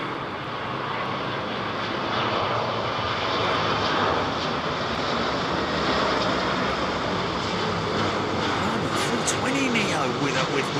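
An Airbus A320neo airliner at London Heathrow produces a sustained, fairly loud engine roar with a rising whine toward the end, while people talk over it.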